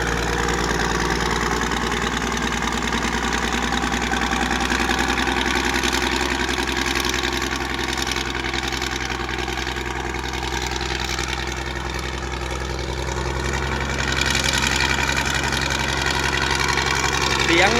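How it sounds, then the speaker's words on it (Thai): Six-cylinder diesel engine of a road grader idling, a deep, steady low rumble throughout, close and fairly loud, with some voices talking briefly over it. "เครื่องยนต์หกสูบนะครับ"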